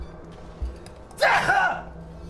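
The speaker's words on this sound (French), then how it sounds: "Je vais éternuer." A single sharp sneeze bursts out close by after a quiet, breathy pause.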